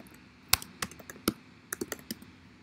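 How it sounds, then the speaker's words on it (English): Keystrokes on a computer keyboard while typing a document, a quiet irregular run of sharp clicks and taps with a few louder key hits, close by and with no talking. "and start typing."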